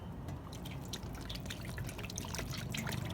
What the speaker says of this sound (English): We're just gonna start pouring.